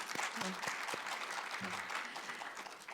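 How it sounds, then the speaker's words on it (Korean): Audience applause at a university performance forum, a steady dense clapping that holds for the full three seconds at moderate level, with a few faint voices mixed in underneath. "감사의 박수 한 번 더 부탁드리겠습니다"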